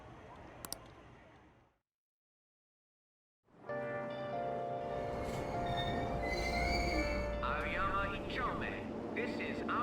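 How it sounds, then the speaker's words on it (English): After a brief hush, a train in the video game Persona 5 Royal rumbles along steadily with a droning hum and high metallic squeals from the wheels, loud and continuous. "Train doors are now closing. Please stand back."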